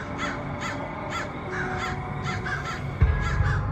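Several crows cawing repeatedly outdoors, harsh calls in an irregular series at moderate distance, with a brief louder knock or handling thump near the end and no talking.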